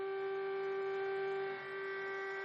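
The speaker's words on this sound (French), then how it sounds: "Les sirènes ont retenti" Steady air-raid sirens sounding during a commemorative silence for epidemic victims in China, a sustained even wail holding a constant pitch throughout.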